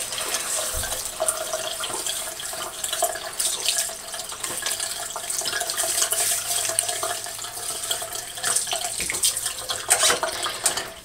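Tap water runs steadily into a sink while a freshly shaved head is rinsed one-handed, a continuous close splashing hiss with no talking.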